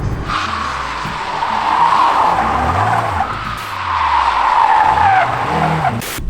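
A VW Golf GTI Mk2 8-valve drift car slides with loud, continuous tyre skidding and squealing over a revving engine, the engine note rising and falling in waves as the car swings through the slides.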